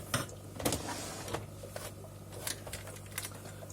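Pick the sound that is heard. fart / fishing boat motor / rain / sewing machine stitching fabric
sewing machine stitching fabric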